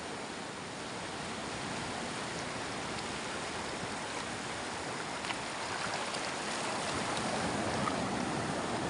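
Big waves against a mini boat powered by a Tohatsu 9.8 hp outboard engine out at sea, a dense continuous wash of water and wind noise with a steady rushing roar and no talking.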